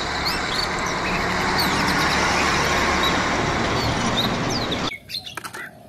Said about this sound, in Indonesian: Wadidaw, ada truk molen.